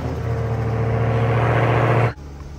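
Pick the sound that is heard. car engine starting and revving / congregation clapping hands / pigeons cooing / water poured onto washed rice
car engine starting and revving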